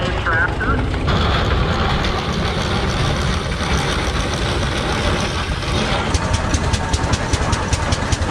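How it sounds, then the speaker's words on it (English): Engine of a homemade tractor rolling past in a parade, a steady loud chugging rumble throughout with an announcer's voice over it and a faint rhythmic ticking toward the end. "Following band of David Milton from Gulch on a homemade tractor."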